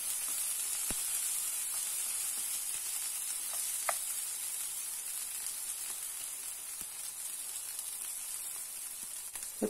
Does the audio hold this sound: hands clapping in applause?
no